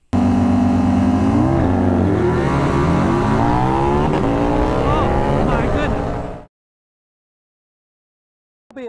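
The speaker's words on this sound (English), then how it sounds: "Now I'm riding my BMW R9T." BMW R nineT motorcycle from 2020 in a drag race with traction control off, its engine revving loud and close as rising gear sweeps build and drop through about six seconds of hard acceleration, then cutting to silence.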